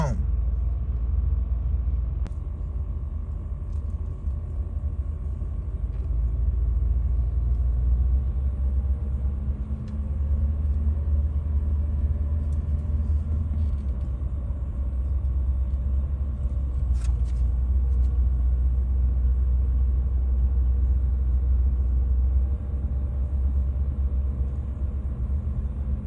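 A car rolls along slowly on the drive home, its low engine rumble and road noise steady and continuous throughout, with voices talking now and then over the drone.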